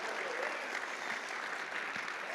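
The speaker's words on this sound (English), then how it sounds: "let's give a round of applause for CallStack for making this event possible" A large conference audience at React Conf 2025 applauds for sponsor CallStack, a dense, steady wash of clapping that fills the whole hall without a break.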